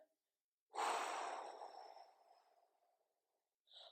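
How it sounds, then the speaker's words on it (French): A slow, audible exhale through the mouth during a hypopressive abdominal breathing exercise, starting strong and close, then tapering off gradually over about two seconds, with a short fresh breath sound at the end. "Donc, j'expire"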